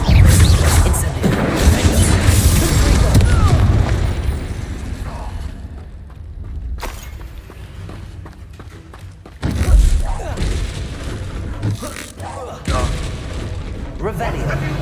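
Incendio, a fire spell in Hogwarts Legacy, roars in a loud, booming blast at the start, followed by quieter rumbling and a second sharp burst partway through.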